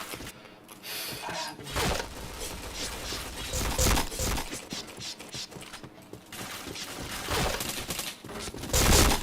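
Rapid bursts of gunfire from the online shooter PointBlank, dense overlapping shots and mechanical clatter throughout, with a player's voice talking over the game.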